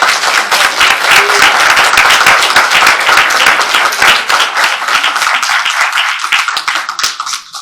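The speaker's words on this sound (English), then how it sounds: "Round of applause, everybody." Loud, dense applause from an audience at a community luncheon fills the room, sustained crackling clapping that thins out slightly near the end.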